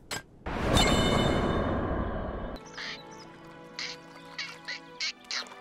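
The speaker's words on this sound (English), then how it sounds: "A duck turtle? What are these weird hybrids?" A turtle duck, a cartoon turtle-duck hybrid in an animated show, gives a run of short, soft quacking calls close by with no talk. The calls come in after a louder burst of rushing noise.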